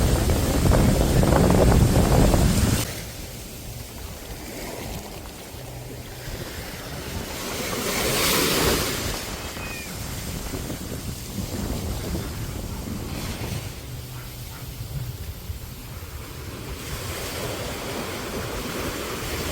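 Strong storm wind at a beach on Osmeña Point, Dasol, Pangasinan, roaring and buffeting the microphone in heavy gusts, loudest at the start, with surf rumbling underneath and no talking.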